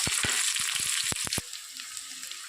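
Onion frying in oil with cumin seeds, chana dal and green chilli, a close steady sizzle broken by sharp clicks and taps of a spoon against the pan.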